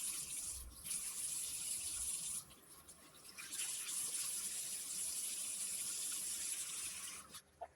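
Water runs steadily from a tap in a sink while a face product is rinsed off, a constant close hiss that breaks briefly once and then resumes before stopping.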